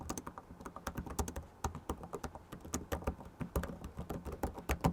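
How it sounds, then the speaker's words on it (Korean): Fingers type on the keyboard of an HP OmniBook Ultra Flip 14 laptop, producing a quick, even stream of soft, crisp key clicks heard close up with no talking. "요 정도의 타이핑 소음을 들려주고 있기 때문에"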